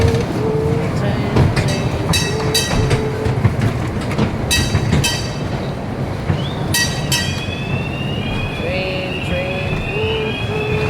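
Small amusement ride train rolling along steadily with a continuous rumble and scattered clicks and squeaks, voices chatting over it throughout.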